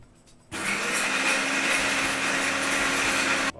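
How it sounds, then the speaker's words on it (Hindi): A Borosil Silver Line mixer grinder grinding masala, a loud steady motor whir and grinding roar that starts abruptly, runs continuously for about three seconds, then stops, with no talk. "हम बोरोसिल के मिक्सर ग्राइंडर में, बढ़िया मिक्सर ग्राइंडर है, सिल्वर लाइन मिक्सर ग्राइंडर है मेरे पास, पावरफुल है जी, इसकी मोटर बहुत ही पावरफुल है।"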